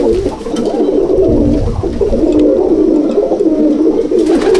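Racing pigeons coo steadily inside a loft, a continuous low throaty murmur from several birds close by, loud and without talk.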